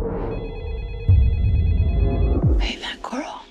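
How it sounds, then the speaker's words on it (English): A phone rings in a tense action thriller scene, with an electronic ringtone trilling steadily under a rumbling, busy mix of voices and movement, then giving way to a short burst of louder sound near the end. "your phone is ringing"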